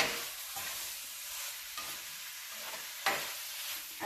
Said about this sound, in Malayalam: ഒന്നുകൂടെ ഒന്ന് ഇളക്കി കൊടുക്കുക